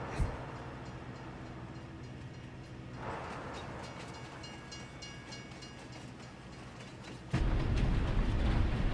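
Train running in Farming Simulator 22, heard from the cab interior as a steady low mechanical rumble with clicking, growing louder and heavier near the end.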